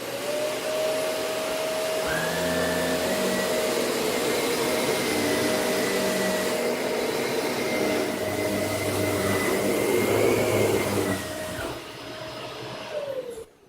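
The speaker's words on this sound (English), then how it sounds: "Slowly reintroduce the vacuum in a positive context." A household vacuum cleaner runs steadily and loudly for most of the span, its motor whine rising in pitch partway through before it switches off near the end, with no voices over it.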